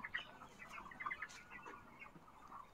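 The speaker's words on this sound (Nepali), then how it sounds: "31-32 दिनको चल्लाहरू" Broiler chickens about 31 to 32 days old cluck softly and repeatedly, several birds chattering in short overlapping bursts, fairly faint and close together.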